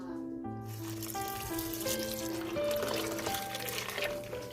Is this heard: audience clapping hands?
no